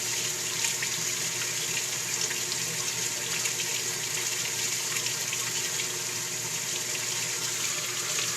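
Water pours steadily through a Cetus sieve open drain, a constant loud rushing and splashing that holds evenly throughout with no voices.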